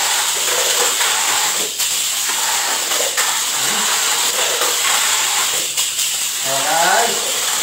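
Tamiya mini 4WD race cars running on a track, a steady loud high-pitched motor whine and hiss throughout, with people's voices briefly heard over it.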